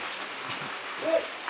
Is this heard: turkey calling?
no